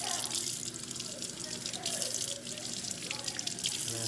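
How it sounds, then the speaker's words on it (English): Tap water pours steadily while a board is rinsed and scrubbed beneath it, a constant close splashing hiss with small changes as the board moves. "I'm just gonna rinse the other side of my board just for fun"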